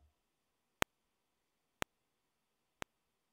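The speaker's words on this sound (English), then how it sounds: "You can hear the clicking repeats." Three sharp synthesizer clicks from a pulse fed into a delay, repeating at an even one-second rhythm, loud and isolated against near silence.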